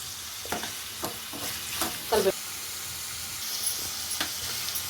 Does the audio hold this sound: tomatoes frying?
yes